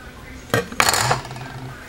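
A sharp knife trims and scrapes a bar of swirled Monkey Farts cake soap, giving a couple of close, abrupt scraping clacks against a low steady background.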